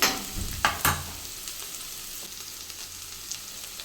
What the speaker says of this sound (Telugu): ఈ ఆనియన్స్ మెత్తబడేంత వరకు వండాలి